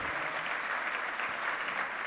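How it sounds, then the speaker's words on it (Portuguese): Steady, dense applause from a large church congregation, loud and continuous throughout with no pauses or voices standing out. "Dá uma salva de palmas, Senhor Jesus, bem forte."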